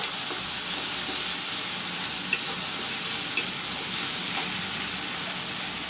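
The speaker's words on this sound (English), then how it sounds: "Friends, the tomato also is fried up." Chopped tomatoes fry with browned onion in a pan for banana curry, giving a steady broadband sizzle with a few faint stirring clicks, close and continuous, with no voice.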